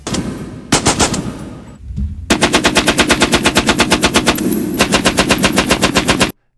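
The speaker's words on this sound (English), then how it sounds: "The gun is now loaded and ready to fire." A World War I machine gun firing: a short burst, then after a brief pause a long, steady stream of loud, rapid, evenly spaced shots, close and heavy, ending abruptly in silence.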